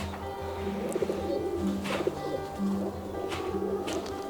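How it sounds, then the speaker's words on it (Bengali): Golden kamagar pigeons coo in repeated low, throaty phrases that come at an even rhythm from close by, with background hum and faint chirps around them. "এই গোল্ডেন কামাকার মাদা পায়রা, নসলটা দেখুন আপনারা"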